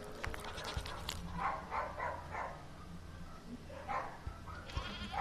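Goat bleating repeatedly, several drawn-out calls at moderate distance over a noisy outdoor background, with other animal sounds mixed in.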